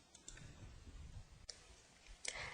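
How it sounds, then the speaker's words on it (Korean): Mouse clicks in PowerPoint 2010: a few faint, sharp clicks scattered over a quiet background, one at the start, one midway and a final pair near the end. "클릭해주면 되겠습니다"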